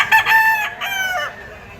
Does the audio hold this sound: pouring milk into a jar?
no